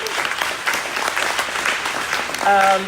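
Audience applause at a legal talk as the ACLU's legal director is introduced, dense clapping throughout with a tonal sound rising near the end.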